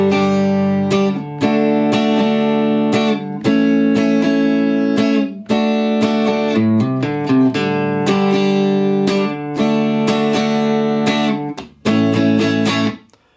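Electric guitar strums the bridge of a song in a steady rhythmic pattern, loud and close, with a few brief pauses between phrases and a final ringing chord.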